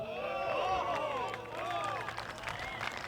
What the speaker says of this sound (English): Somebody in the crowd was surprised that Paul McBeth threw a good shot.